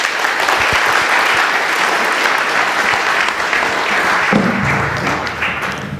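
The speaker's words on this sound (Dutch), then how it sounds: "Alvast een heel hartelijk applaus voor John." Loud, sustained audience applause for a keynote speaker filling the room, many hands clapping steadily, thinning slightly toward the end as a low murmur enters.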